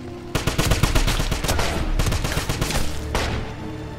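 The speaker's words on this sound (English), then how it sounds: "Give me suppressing fire!" Rapid bursts of automatic suppressing gunfire in the Wolfenstein (2009) dig site level, dense overlapping shots rattling continuously and loudly with brief lulls between volleys.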